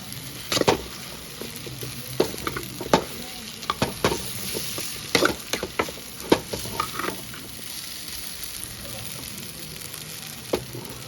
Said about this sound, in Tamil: நல்லா இந்த மாதிரி இதை வந்து வெளியே கிண்டுங்க. ஸ்மெல் போகிற வரைக்கும் வதக்கிக்கணும்